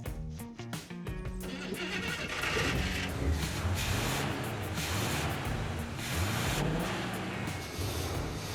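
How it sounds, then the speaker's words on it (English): A car engine sprayed with ether after its fuel pump was hooked up cranks, catches and revs, rising to a loud, rough, sustained running roar close by, with no talk. "With the fuel pump all hooked up, we're gonna see if it'll run on its own."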